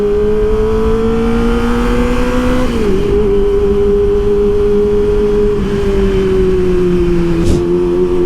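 A Kawasaki ZX25R motorcycle engine with a DB killer fitted revs loudly and close, holding a high-pitched scream that dips sharply around three seconds in, then steadies and dips again near the end.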